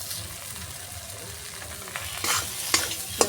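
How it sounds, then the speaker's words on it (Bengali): Spice masala for rajma is stir-fried in a pan, giving a steady soft sizzle with a few sharper scraping strokes of the spoon toward the end, close by and fairly quiet, with no voices. "দেখো মশলাটা কষানো হয়ে গেছে"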